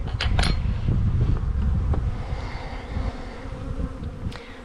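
Honeybees from a nucleus hive hum in a steady, close buzz, with a few soft knocks of frames being handled.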